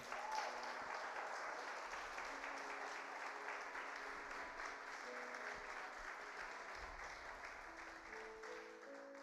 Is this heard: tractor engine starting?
no